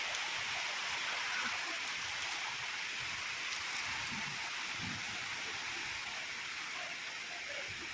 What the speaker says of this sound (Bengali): আওয়াজটা জাস্ট শোনো, আস্তে আস্তে বৃষ্টিটা আসছে।